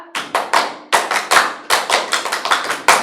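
Rhythmic scout-style hand clapping, a patterned series of sharp, close claps in grouped beats, loud and alone with no voices.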